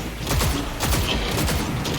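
Rapid automatic turret fire in the video game Cyberpunk, a dense burst of cracking shots and mechanical clatter filling the whole moment, loud and close.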